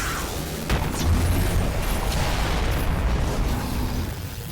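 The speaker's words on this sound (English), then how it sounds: "He leaps up into the air and does a huge explosion." A huge explosion move called Galaxy Impact in the Roblox game AOPG, a loud, sustained booming blast that rumbles and crackles for several seconds with no talk over it.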